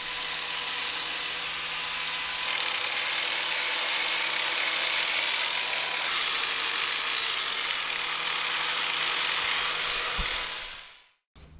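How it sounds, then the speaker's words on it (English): A paddle wheel abrading sharp edges off a steel mini bike frame before paint, a steady loud whirring grind held continuously for about ten seconds, then cutting off abruptly. "So I thought we'd hit the paddle wheel on the sharp edges right before paint."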